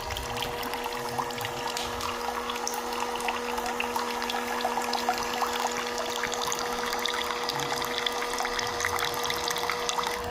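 Water trickling and circulating through a small homemade fountain gadget driven by a pump, a steady close splashing trickle over a constant low hum.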